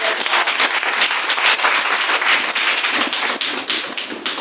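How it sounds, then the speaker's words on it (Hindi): A church congregation claps together for God during a Sunday worship service in New Delhi, a dense, steady wash of many hands sustained throughout without pause. "तो आइए हम परमेश्वर के लिए ताली बजाएंगे।"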